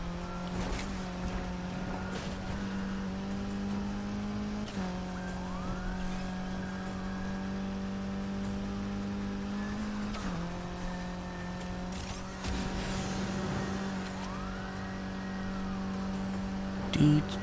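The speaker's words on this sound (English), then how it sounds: "It's an undercover Camaro. I've never seen an undercover Camaro in my life." An undercover Camaro police car wails with its siren in the racing game Need for Speed Heat, rising and falling sweeps over a steady engine drone, with tire noise and faint rumbling in the background.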